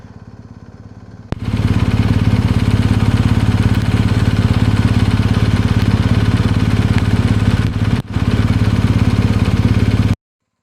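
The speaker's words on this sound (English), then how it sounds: "Just sitting here at idle" Engine idling with a steady, dense low rumble, quieter at first and then abruptly loud and constant for about nine seconds, with a brief dropout near the end before cutting off.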